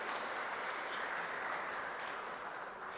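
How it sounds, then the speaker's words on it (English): A steady wash of clapping from an audience at a university valedictory function, sustained and even throughout, dense and moderately distant, with no voices over it. "Let's give a big round of applause."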